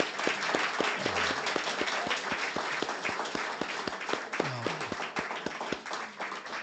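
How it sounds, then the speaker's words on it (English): Audience at a memorial lecture evening gives the speaker a round of applause, a full, lively burst of many hands with sharp individual claps standing out, continuous throughout with a little voice mixed in. "Let's give our speaker another round of applause."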